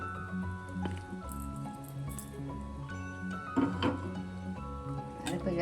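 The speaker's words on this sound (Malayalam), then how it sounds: "അരപ്പ് ചേർത്തൊന്ന് മിക്സ് ചെയ്യാൻ നോക്കാം." Ground coconut paste is mixed into drumstick and potato aviyal in a pot, giving soft, wet squishing and dripping sounds close by. A steady low hum runs underneath and there is no talking.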